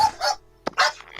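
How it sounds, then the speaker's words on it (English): A dog belonging to a landlord barks in a few sharp, separate yaps nearby, with short gaps of quiet between the barks. "it's my landlord's dog"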